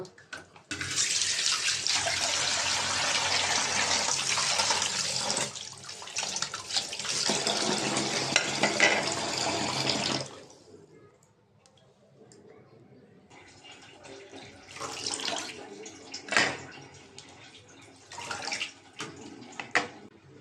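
Raw beef being washed in water: a strong tap stream pours loudly for about ten seconds, then gives way to quieter sloshing and splashing as the meat is rinsed by hand.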